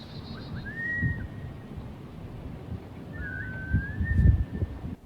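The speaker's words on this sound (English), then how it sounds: "This whistling is how they communicate." A stranger in the New Jersey Pine Barrens woods whistles in an erratic pattern: two thin, wavering whistles a couple of seconds apart over a low, rumbling outdoor background.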